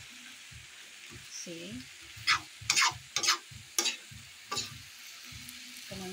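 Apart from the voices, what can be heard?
stirring alugbati (malabar spinach) while it cooks in a pan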